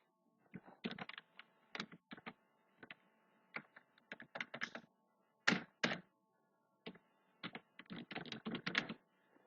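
Clicks from a computer keyboard as someone types Bengali text and hits space, coming in short irregular clusters of close, crisp keystrokes separated by brief pauses.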